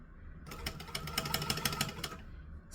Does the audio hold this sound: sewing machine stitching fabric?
yes